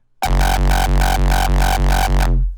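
A heavy, booming electronic kick pattern processed through an audio plugin, uptempo, with a deep low end, about eight punchy hits in a steady rhythm, loud and up close, then cut off.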